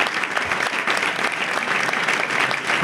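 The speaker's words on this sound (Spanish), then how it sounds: "le pediría que pondría un aplauso fuerte para" An audience breaks into strong, sustained applause for a musician, a dense and steady wash of clapping from many hands.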